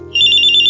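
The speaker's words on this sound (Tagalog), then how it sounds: "May tumatawag sa isa kong cellphone." A cellphone rings with an incoming call, a loud, steady electronic warble lasting under a second over a faint low hum, with no voices.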